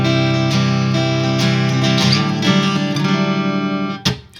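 Ernie Ball Majesty electric guitar played clean through a Mesa amp with a touch of reverb, sustained chords and picked notes up close, ending with a sharp strum and brief ringing tail.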